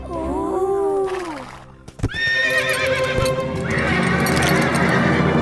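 A horse neighs loudly in a long, wavering whinny, then whinnies again with hooves clip-clopping beneath, close and continuous, in a dubbed Ramayana film scene with an Ashvamedha sacrificial horse.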